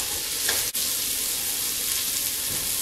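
Meatballs brown in a frying pan with a continuous loud sizzle and crackle, one brief sharp tap partway through.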